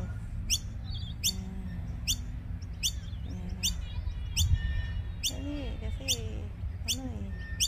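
Birds chirp in sharp, regularly spaced high calls with softer twittering between them, while people talk quietly underneath.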